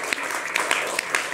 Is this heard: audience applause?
yes